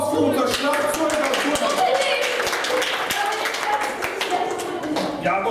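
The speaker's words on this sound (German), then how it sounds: "einen großen Applaus für unser Schlagzeuger." Children at a kids' camp show clapping for a young drummer, a lively stream of claps with sharper taps standing out, while an adult voice talks over it.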